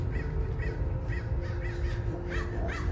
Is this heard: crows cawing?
yes